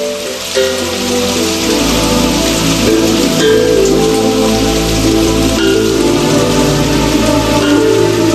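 Heavy rain pours steadily and loudly in an Indonesian TV drama scene, a dense continuous wash that runs the whole stretch, with sustained musical tones underneath.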